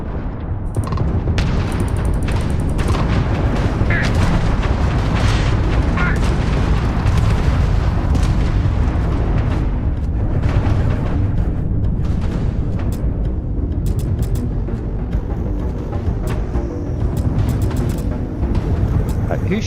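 Space combat in Starfield: explosions and weapon fire roar continuously, loud and close, thick with booms and rapid shots, with voices speaking over the battle.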